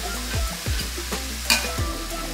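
Meat for Philly cheesesteak sliders browns in a hot pan, giving a steady sizzle broken by a few scraping stirs and clanks of a utensil, close and fairly loud, with no talking.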